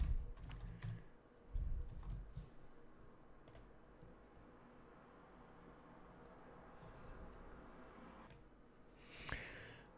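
Typing on a computer keyboard, a quiet run of soft scattered key clicks at close range. A few louder knocks and handling noises come near the start and end.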